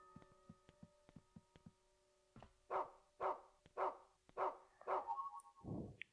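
A dog in the video game Rule of Rose barks repeatedly: quick short yips first, then a run of louder, fuller barks, ending with a low growling whine.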